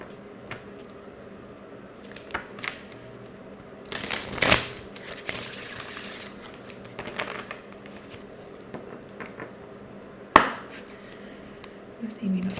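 Oracle cards are shuffled and handled for a tarot reading, with soft riffling and flicking bursts, a louder flurry in the middle and a sharp snap near the end.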